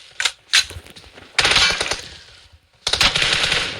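Bursts of automatic gunfire in a shooter video game: two quick single shots, then two sustained loud rattling volleys separated by a short pause, close and clear with no talk.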